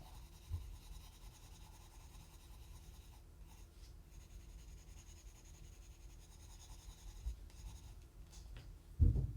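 Colored pencil shades across paper in soft, steady scratchy strokes, quiet and close, with a louder tap or bump at the very end.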